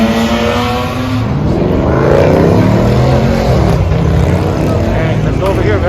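BMW E30s pull out of a street car meet in Monrovia, California, with a loud, close engine rumble building as the cars accelerate away over the background noise of the crowd.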